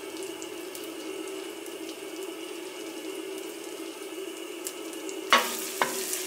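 Butter browning in a pan with rosemary sizzles steadily with a soft, even frying hiss, then a few sharp scrapes and clinks of stirring close by near the end.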